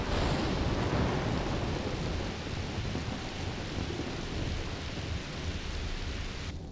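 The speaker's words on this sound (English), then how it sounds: "And now it's raining." Shenmue video game weather: steady, dense rain with a rolling thunder rumble beneath, loud and continuous throughout with no voices.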